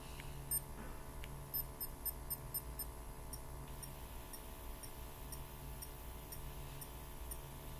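A Medtronic MiniMed 723 insulin pump priming gives off a series of thin, faint electronic beeps in a short melodic pattern over a steady low background hum.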